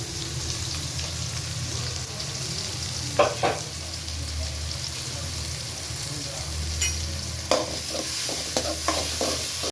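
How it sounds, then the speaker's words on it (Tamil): Small onions sauté in oil with cardamom in a pan for mutton curry, giving a steady loud sizzle with a few scraping stirs of a spoon. "வெங்காயம் வதங்கிட்டு இருக்கு"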